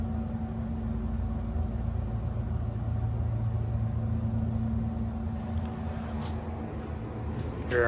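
An original Dover hydraulic elevator motor runs as a steady, loud low hum with a constant tone, while faint clicks and a brief higher squeal come in near the end.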